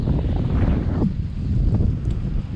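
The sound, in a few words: wind on the beach while fishing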